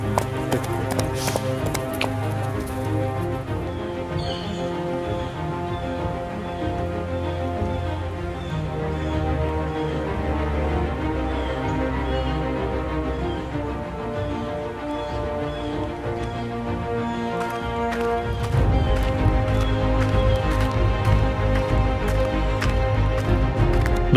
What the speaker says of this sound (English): These donkeys are carrying goods to Lukla and beyond.